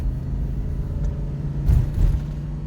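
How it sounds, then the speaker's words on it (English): A 2002 Ford Explorer engine with a 5R55S transmission idles with a steady low rumble, then briefly swells twice as the gas is lightly feathered, close and with no talking. "Let's feather the gas a little bit"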